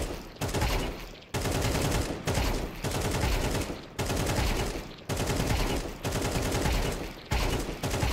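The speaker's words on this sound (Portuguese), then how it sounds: "Vou atirar flicando o mais rápido possível" Rapid bursts of gunfire in Counter-Strike 2 repeat in quick succession, loud and steady with brief gaps between volleys.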